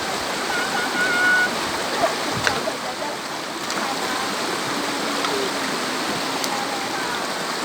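A clear stream flows beside the bank in a steady, close, full rush of water with no pauses and occasional small splashes.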